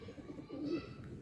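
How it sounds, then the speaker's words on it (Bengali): Madrasi pigeons kept in a cage coo softly and close by, a brief, low burbling call repeating over about a second with no other sounds. "এই যে পায়রাগুলো দেখাচ্ছি সবই পায়রা সেলের মধ্যে থাকবে।"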